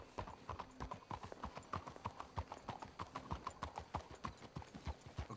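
Horse hooves clip-clop in steady, quick rhythm through a Red Dead Redemption scene, several horses moving together with clear, close strikes and a faint background bed, no talking.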